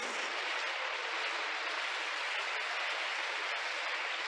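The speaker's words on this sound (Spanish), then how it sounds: "Un aplauso." Church congregation applauding during a sermon, a dense, steady wash of many hands clapping at once, sustained and even for the full stretch with no voices rising above it.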